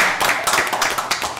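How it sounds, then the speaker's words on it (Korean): A short burst of audience applause, a quick scatter of hand claps from a studio crowd on a Korean current-affairs radio talk program. "우리 박수 한번 쳐주세요"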